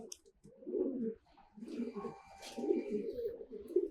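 Two-year-old domestic pigeon of a home-bred line cooing in a loft, a series of low, throaty coos repeating close by, with other birds' faint calls and soft rustling around it.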